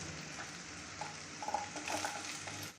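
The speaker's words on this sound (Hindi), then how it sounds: "तो इसी तरह से हम इन्हें थोड़ा सा फ्राई कर लेते हैं आलूओं को" Finely diced medium potatoes fry in a pan for a fasting-day sabudana dish, giving a steady soft sizzle with brief stirring scrapes, close and alone.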